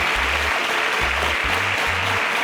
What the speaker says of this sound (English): Can we give a round of applause to these superstars?